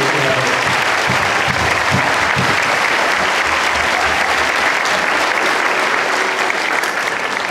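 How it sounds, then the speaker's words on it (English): An audience at a school Veterans Day assembly applauds, a dense, steady wash of clapping from many hands filling the room for the whole stretch with no voices standing out. "Let's have one more round of applause."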